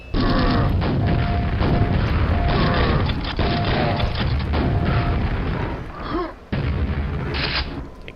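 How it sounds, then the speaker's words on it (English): The Quake rocket launcher fires again and again with heavy booming blasts and explosions, loud and close, in rapid succession with mechanical clatter between shots. "The Quake rocket launcher really is so good"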